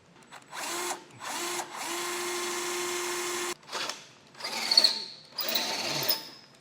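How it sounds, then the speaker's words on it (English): Power drill boring holes for a Blue Ox base plate on a 2013 Mini Clubman, with several short bursts of whirring, a longer steady run and then more brief bursts with pauses between, fairly close. "so we need to get that drilled out as well."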